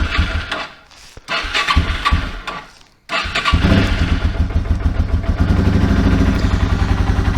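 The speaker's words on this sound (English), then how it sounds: "Running bike, check." A motorcycle engine cranks with a few sputtering attempts, falls silent for a moment, then catches and settles into a loud, steady idle close by.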